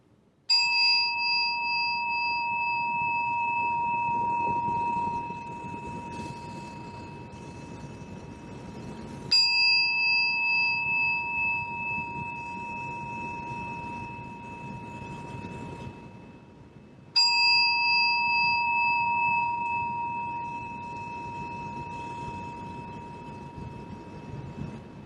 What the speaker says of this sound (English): So listen to this bell for a moment.